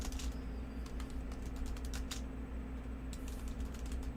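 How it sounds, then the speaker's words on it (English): Computer keyboard typing runs steadily throughout, a stream of quick light key clicks with brief pauses, close and moderately quiet over a constant low hum. "I'm just typing out some of the stuff that's coming up"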